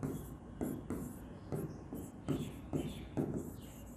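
Pen or marker strokes drawing a wedge and dash chemistry diagram, a series of about eight short scratchy bursts in an uneven rhythm, close and quiet with no talking.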